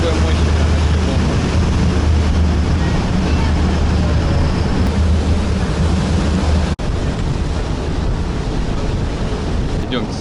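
Sea waves churning and foaming around a yacht on open water at dawn, a loud, continuous broadband roar and wash with heavy wind buffeting, steady throughout with one brief dropout.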